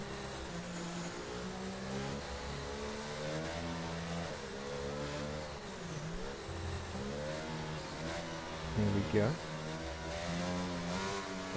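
A Formula 1 car in a racing game accelerates at Singapore, heard onboard: the engine rises through gears in repeated revving sweeps under steady commentary talk.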